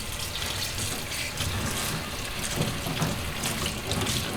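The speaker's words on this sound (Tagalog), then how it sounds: "So ngayon is hugasan na natin yung ating mga dahon." Soursop leaves are rinsed under a running kitchen tap, a steady close-up stream of water splashing into a sink with the leaves shifting in it.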